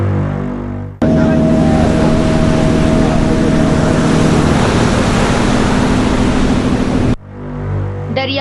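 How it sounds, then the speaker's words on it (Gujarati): Roaring sea waves off Ghogha rush in a loud, continuous wash of noise for several seconds, with a faint steady hum underneath; quieter ambience comes before and after. "ઘૂઘવતો દરિયો"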